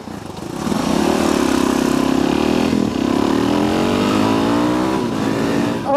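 A 2015 Suzuki DRZ400SM motorcycle engine revs and accelerates hard, loud and close, its rising then steady drone holding for several seconds with a brief dip mid-pull.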